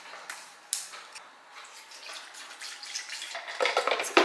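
Coconut water pours into a smoothie blender jar in a home kitchen, giving a soft, steady splashing trickle with a few sharper splashes toward the end, close and fairly quiet, with no talking.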